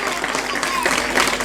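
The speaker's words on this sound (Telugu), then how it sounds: "మీరందరూ గట్టిగా చప్పట్లు కొట్టుకోండి" An audience of students claps at a ventriloquism comedy show, a dense, steady patter of many hands filling the room at even loudness, with some voices mixed in.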